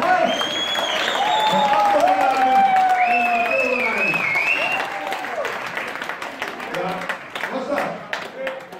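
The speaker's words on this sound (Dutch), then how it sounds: "Applaus!" Audience applause fills the room steadily, loud and close, with a few voices calling and whooping over the clapping before it thins out toward the end.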